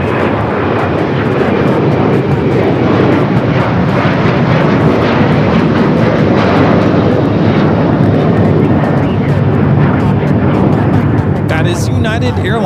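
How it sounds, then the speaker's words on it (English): United Airlines Boeing 737-900ER jet taking off, a loud, steady roar of engine thrust sustained throughout, with people talking over it. "That is United Airlines 2667 taking off to Washington Dulles on the 737-900ER."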